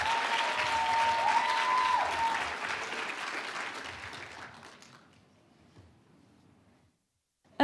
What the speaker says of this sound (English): Round of applause for Qualcomm.